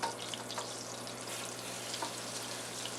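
Chicken thighs browning in butter in a big pan, a steady close sizzle and crackle of frying with a faint low hum underneath and no talk.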